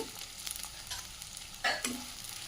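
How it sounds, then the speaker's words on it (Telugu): Chopped onion and green chillies frying in a pan with cumin for capsicum rice, a close, steady sizzle with a brief louder burst of crackle partway through, no voices. "ఆనియన్ పచ్చిమిర్చి వేసుకొని కలర్ చేంజ్ అయ్యే వరకు ఫ్రై చేసుకోవాలండి"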